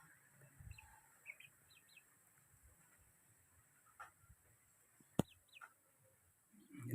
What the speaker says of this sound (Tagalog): lahi yata ng darag yan. Mga darag chicken.